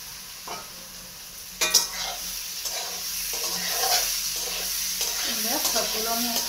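Lentils frying together in a pan give a steady close sizzle, with a sharp scrape of stirring near the two-second mark and light clatter of utensils as it continues; no one speaks.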